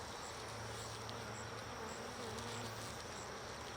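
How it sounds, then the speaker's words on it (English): Honey bees swarm with a dense, steady buzzing from an open hive box during a cloudy summer inspection, filling the whole clip with a continuous drone. "There's a lot of bees in the box."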